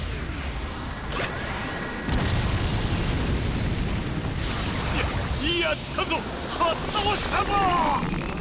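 A Killer Queen bomb explodes in the fighting game JoJo's Bizarre Adventure All Star Battle R. Booming bursts and crackling blasts play under game voices.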